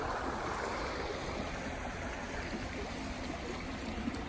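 A forest stream in North America flows with a continuous soft rushing and burbling, steady and fairly quiet, with no voices.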